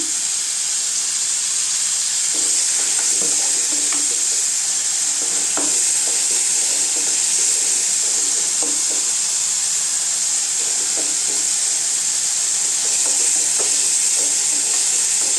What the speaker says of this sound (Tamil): உப்பு சேர்த்தா தாங்க தக்காளி சீக்கிரம் வதங்கும். தக்காளி நல்லா வதங்கட்டுங்க.